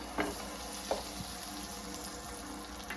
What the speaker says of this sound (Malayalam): ബട്ടർ നന്നായിട്ടൊന്ന് മെൽറ്റ് ആക്കി എടുക്കാം